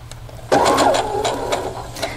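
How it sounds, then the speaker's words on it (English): Sewing machine stitching a seam on a Rainbow Cascade clamshell quilt, a short burst of fast whirring stitches starting after a brief quiet moment, close by. "we're going to sew to that slit"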